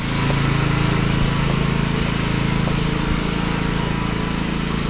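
A 4,000 PSI Mighty M pressure washer cleaning a concrete slab runs as a loud, steady engine drone with hissing spray, continuous and close throughout.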